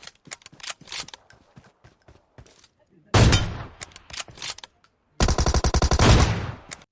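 Gunfire rattles in the battle-royale game BGMI: scattered single shots early, then two long loud bursts of rapid automatic fire, crisp and close, with no talk.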